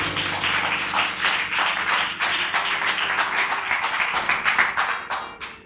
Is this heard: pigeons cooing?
no